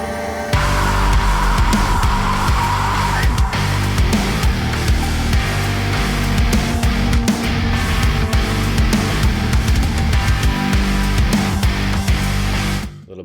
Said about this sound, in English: A little bit of double kick in there.